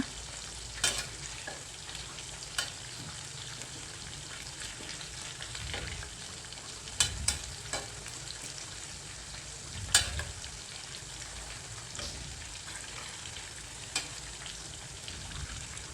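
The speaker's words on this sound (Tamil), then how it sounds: "ஒன்றோட ஒன்று ஒட்டிக்காமல் நல்லா கரெக்டாக நமக்கு பொறிஞ்சு வரும்" Chicken pakoda pieces fry in hot oil with a soft, steady sizzle, quiet and close, broken by occasional sharp pops and clicks.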